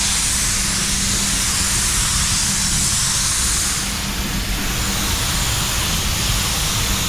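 A steady, loud hiss of a spray gun spraying clear coat onto a Nissan Patrol continuously for several seconds, with no voices.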